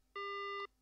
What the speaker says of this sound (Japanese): せわしなく電話切れてしまった。